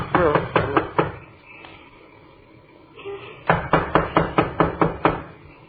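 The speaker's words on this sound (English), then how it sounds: "knock on the door anyhow" Knuckles rapping on a door in an old radio crime drama, two bursts of sharp, close knocks: about six quick raps, a pause, then a longer run of eight evenly spaced knocks.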